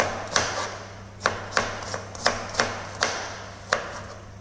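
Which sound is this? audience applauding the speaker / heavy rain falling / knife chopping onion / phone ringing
knife chopping onion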